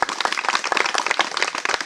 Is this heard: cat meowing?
no